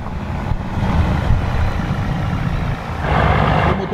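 A truck engine idles in Euro Truck Simulator 2, a steady low rumble with a rough, throaty tone that swells louder near the end, with no talking over it.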